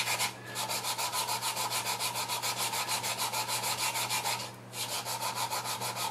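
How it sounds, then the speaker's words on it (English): 3M 220 sandpaper wetted with cutting fluid is rubbed over an outboard motor's impeller pump housing from a Sea King Chrysler engine, in steady, rhythmic back-and-forth strokes, close and continuous with one brief pause. "I've got cutting fluid on this 3M 220 sandpaper"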